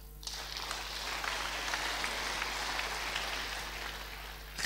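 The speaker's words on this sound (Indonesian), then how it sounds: "Beri tepuk tangan buat Tuhan." Congregation at a church service applauding, a quiet, steady spread of clapping sustained throughout, somewhat distant under a low steady hum.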